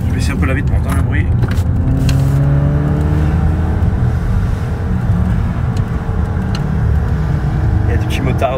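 A SEAT Léon 1.8L 240 BHP car engine drones and pulls under acceleration through an open window, a steady loud rumble with wind noise and someone speaking over it.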